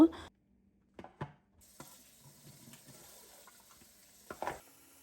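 Cleaned magur catfish pieces are rinsed under running tap water: a faint, steady splash and trickle with a few handling knocks, after brief louder bumps at the start.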